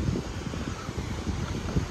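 Steady wind gusts buffet the microphone on an early-morning beach where people gather clams, a continuous loud rumbling roar with no talk.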